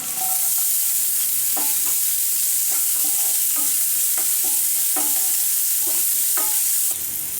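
Onion, garlic and green chilli frying in hot oil for a fish podimas, a steady loud sizzle broken by repeated scraping stirs of a spatula in the pan, with no talk.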